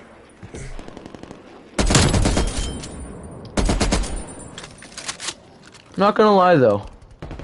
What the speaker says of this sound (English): I just wanted to get off the RPD and show you the M60, the worst gun,